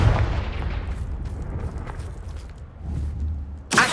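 A Confringo blasting spell goes off in Hogwarts Legacy with a deep, booming explosive burst at the start that rumbles and fades, followed by lighter in-game movement sounds and a sharp closing crack.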